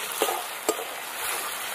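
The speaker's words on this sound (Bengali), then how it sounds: "ভালো করে আমি একদম টমেটো, পেঁয়াজ, আদা রসুন সব একদম ভালো করে কষিয়ে নেবো" Tomato, onion, ginger and garlic stir-fry in a hot pan, giving a steady close sizzle broken by two sharp spatula scrapes and clinks against the pan early on.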